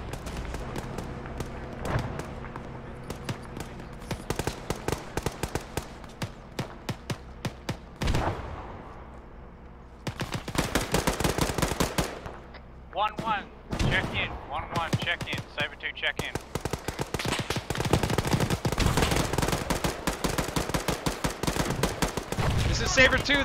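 Bursts of rapid automatic gunfire in ARMA 3, loud and close, broken by short pauses and mixed with scattered other shots, with radio chatter and voices underneath.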